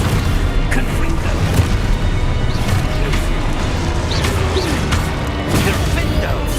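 Confringo blasting spell explosions in Hogwarts Legacy, heavy booming and crashing impacts layered densely over game music and effects, loud and continuous with short bursts throughout.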